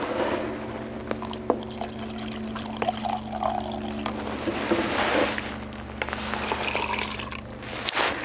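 Warm water pours steadily into a container of red dye stain remover and upholstery pre-spray mix, a soft continuous splashing with faint clinks and drips, close by.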